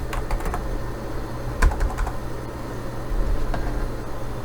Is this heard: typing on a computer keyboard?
yes